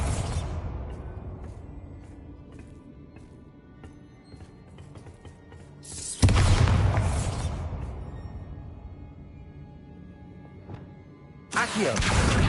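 Bombarda spell explosions in Hogwarts Legacy: two sudden loud blasts spaced several seconds apart, each decaying into a long rumbling tail over a quiet game backdrop.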